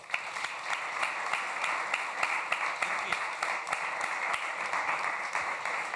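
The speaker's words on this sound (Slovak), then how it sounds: "Jeden veľký potlesk." An audience applauds a panel discussion with Petr Fiala and Eduard Heger in Slovakia, with many hands clapping in a fairly even, rhythmic patter that carries on steadily at a moderate distance.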